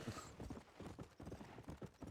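Horse hooves clip-clop in rapid rhythmic steps in the Red Dead Redemption: Undead Nightmare video game, faint and brief, with a short trace of a whinny.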